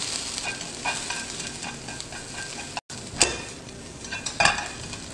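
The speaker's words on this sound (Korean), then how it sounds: "호박도 약한 불로 볶아주면서 한 1-2분 정도 재료를 익혀줍니다." Zucchini stir-fried in a pan over low heat for bibimbap, a soft continuous sizzle with scraping stirs and light clinks of a utensil against the pan, close and fairly quiet.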